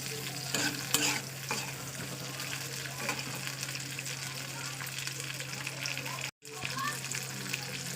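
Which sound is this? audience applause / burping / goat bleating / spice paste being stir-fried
spice paste being stir-fried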